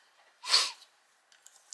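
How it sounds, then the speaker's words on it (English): A single quick, breathy nasal sniff or snort up close, about half a second long, followed by quiet and faint small rustles. "Oh, excuse me, sniffing."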